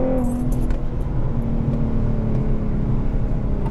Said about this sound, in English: the MPT tune just broke the tires on the 1 and 2 shift